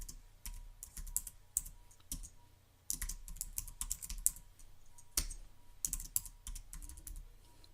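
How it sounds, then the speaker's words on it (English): Rapid typing on a computer keyboard, close and fairly quiet, with irregular bursts of key clicks and short pauses between words. "Now we'll type in the text box our words."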